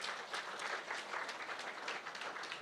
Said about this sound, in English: I would like the audience to please welcome him on the stage with a thunderous round of applause.